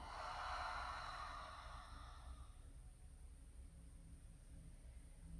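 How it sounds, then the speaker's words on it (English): A breathy exhale through an open mouth pushes out for about two seconds, soft and close, then fades into quiet room hiss. "And open the mouth, exhale."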